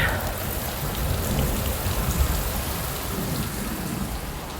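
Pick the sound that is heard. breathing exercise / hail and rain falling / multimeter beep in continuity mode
hail and rain falling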